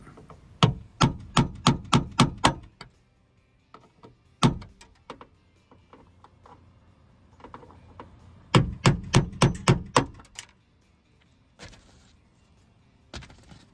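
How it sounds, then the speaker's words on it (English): Sharp metallic hammer taps on a nail set knocking out rivet centers on a Ford Ranger door handle, quick bursts of about eight strikes, pausing between groups, close and loud with no talking. "removing the center of the rivets with a nail set"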